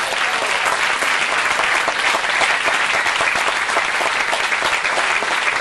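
Audience at a jazz concert applauding a sextet, dense sustained clapping from many hands that stays loud and even throughout, with no voices over it.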